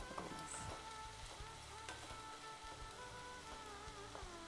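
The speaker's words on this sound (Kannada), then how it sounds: "ಇದೊಂದು ಎರಡು ನಿಮಿಷ ಫ್ರೈ ಆಗಬೇಕು" Almond halwa mixture frying in a pan, a close, steady crackling sizzle with soft stirring scrapes running continuously without voices.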